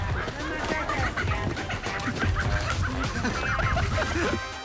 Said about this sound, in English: Not easy to catch a chicken.